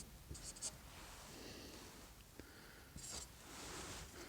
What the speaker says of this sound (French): Je filme et j'écris en même temps, c'est pas évident.